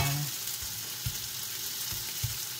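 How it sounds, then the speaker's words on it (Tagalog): Shrimp paste frying in a pan, a soft steady sizzle with faint low bumps as it is moved around. "Napiprito naman siya."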